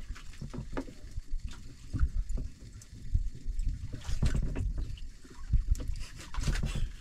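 Boats out at sea during night fishing, with gusty wind buffeting the microphone, sloshing water and irregular knocks and thumps of hulls, fairly loud and uneven.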